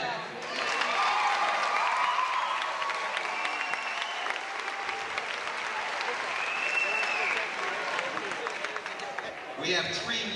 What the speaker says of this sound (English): we ought to applaud that